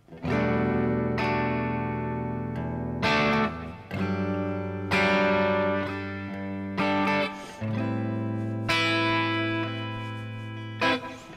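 Distorted electric guitar strums sustained chords with effects, changing chord every couple of seconds, loud and ringing without any voice.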